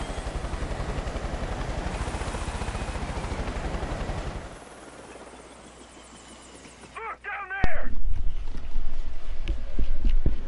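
A helicopter in the video game Far Cry, a loud, close, rapid rotor chop for the first few seconds that then drops away, followed by quieter mechanical sounds, a short spoken word and a loud burst near the end.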